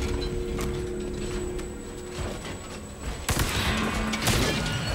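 Resident Evil 4 gunfire comes as a few sharp, close shots spaced across several seconds, with a loud crack about two-thirds through, over a faint tonal game hum and no talk.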